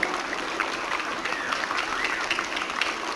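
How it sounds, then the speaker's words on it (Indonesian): A crowd of schoolchildren claps steadily and densely at a Monday flag ceremony in Indonesia, filling the whole stretch with continuous applause, with some voices mixed in faintly. "Mari kita beri tepuk tangan sedikit untuk yang petugas hari ini"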